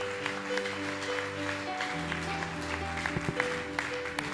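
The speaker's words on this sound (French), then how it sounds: "On acclame encore." A church congregation applauds during a sermon: soft, steady clapping runs throughout beneath sustained organ or keyboard chords, fairly quiet and diffuse, with a few sharper claps standing out.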